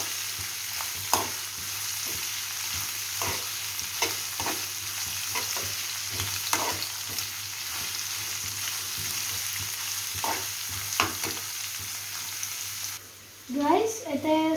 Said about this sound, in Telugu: మనం హై ఫ్లేమ్లో పెట్టుకొని ఇప్పుడు దీన్ని మిక్స్ చేయాలి.